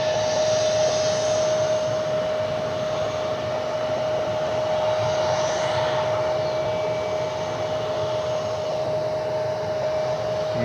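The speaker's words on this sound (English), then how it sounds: "And we got another aircraft inbound." An aircraft approaching Cleveland Hopkins airport produces a steady, distant jet roar with a constant high whine running throughout, no voices.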